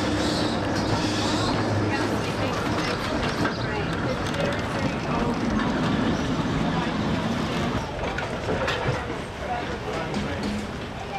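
A Bendigo tram runs along its line, a continuous rumbling roll with rattling and faint clacking from the track, joined by low engine hum and voices talking in the background.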